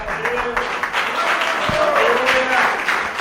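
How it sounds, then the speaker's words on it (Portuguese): A church congregation applauding during worship, a continuous mid-level patter of clapping across the whole moment with faint voices mixed underneath. "Aplaudir ao Senhor."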